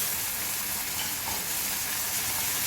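Liquid cooks out in a pan over high heat while a leg of lamb dish is prepared, giving a dense, continuous loud sizzle and hiss with no break.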